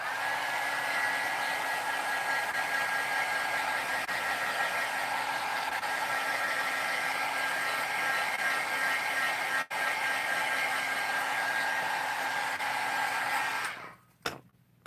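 A handheld dryer blows continuously on a layer of paint for about fourteen seconds, a steady whirring rush with a thin whine, then switches off abruptly with a couple of small clicks.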